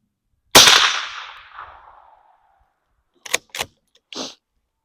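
A Remington 572 Fieldmaster rifle fires a CCI Stinger rimfire round, one sharp loud crack that decays into a long outdoor echo, followed by a few brief metallic clicks and handling sounds.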